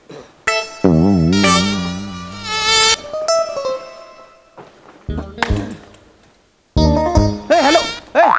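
Buzzing insects in a house awaiting pest control, rendered on a Marathi comedy stage by a voice imitating the buzz in wavering, droning bursts separated by short pauses and thuds.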